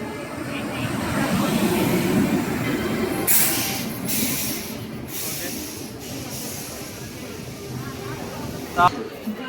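Taj Express passenger train waiting at an Indian railway station, with a steady low rumble and platform ambience under continuous nearby talk, plus a short sharp clatter near the end.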